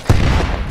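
A grenade in Arma III goes off as a single sharp, close boom that drops into a short low rumbling tail.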